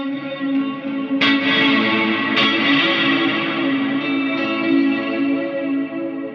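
A Cornerstone Nucleo pedal's reverb rings behind sustained guitar chords, with a dense, slowly shimmering modulated wash and new strums striking in at a couple of points, alone without talk.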